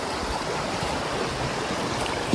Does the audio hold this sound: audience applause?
no